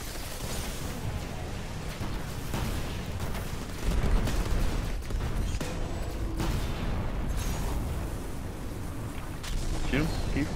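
Gunfire in the Destiny video game during a fight with Crota: a dense wash of rapid shots and heavy booming bursts, loud and continuous, with players' voices chattering over the action.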